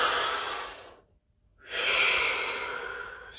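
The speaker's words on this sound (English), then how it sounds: "And deep breath." A deep, slow breath, a long airy inhale and exhale close to the ear with a silent pause between them, steady and unhurried in a quiet room.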